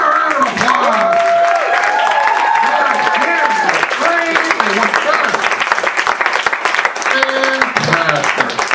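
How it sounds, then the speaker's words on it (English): Comedy show audience applauding comedians in a club, loud, close clapping with some cheering, while a host's voice and other voices carry over the top throughout. "Give them a round of applause!"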